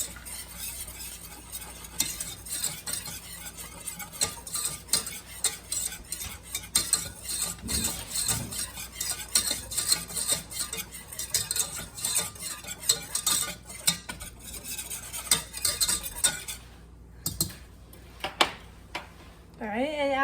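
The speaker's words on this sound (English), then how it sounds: "And then you are going to whisk it together." A whisk scrapes and clatters steadily against a pot as flour is worked into melted butter for homemade mac and cheese, a busy rhythmic metallic stirring with occasional louder knocks, close and fairly loud.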